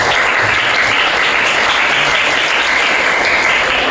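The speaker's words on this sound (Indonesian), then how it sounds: "tepuk tangan untuk kita semuanya" Loud, steady applause from a classroom audience, dense clapping sustained throughout with no voices standing out.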